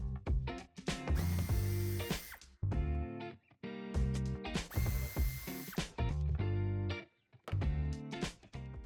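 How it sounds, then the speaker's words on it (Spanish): A ratcheting power tool backs out two screws from the wheel arch of an Audi Q4 e-tron Sportback, giving loud, close bursts of whirring and clicking separated by short pauses. "no sin antes quitar dos tornillos que lleva en el pase de rueda"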